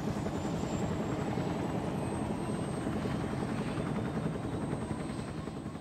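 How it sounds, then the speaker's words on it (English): Bell UH-1 Huey helicopters lifting off in a massed flight during the Vietnam War: a continuous heavy rotor thump and engine roar, loud and steady throughout, with a faint high turbine whine above it. "the massive flight of choppers was lifting off the ground and maneuvering into tight formations"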